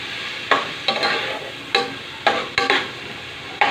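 Onions sizzle and crackle in a hot pan, with a steady frying hiss broken by several sharp stirring scrapes and bursts spaced irregularly over the few seconds, fairly close and with no talking.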